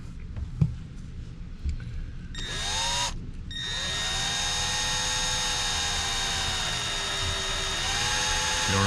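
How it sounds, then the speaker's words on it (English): A power drill with a 1/8 inch bit whirs steadily, its pitch dipping briefly as it bites into the metal cab panel of a Ford F-150 truck, after some faint clicks and handling noises. "you'll take your 1/8 inch drill bit and your drill"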